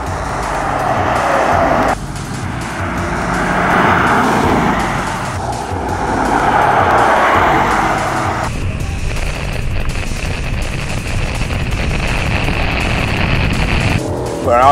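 A Lexus NX200 F-Sport SUV with a 237-horsepower 2-litre engine runs hard on a race track, its engine droning loudly and changing pitch through gear shifts and throttle lifts, close and continuous.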